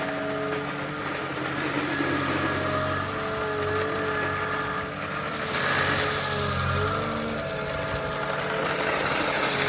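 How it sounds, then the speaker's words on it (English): A machine engine runs steadily while gravel is dropped over pipe laid in a French drain trench. The mid-pitched drone is close and continuous, dipping briefly near the middle before returning a little louder. "he's just dropping the gravel on top."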